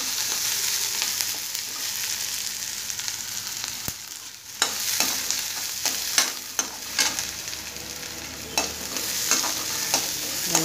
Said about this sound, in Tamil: பாருங்க, வெங்காயம் வதங்கிட்டு இருக்கு.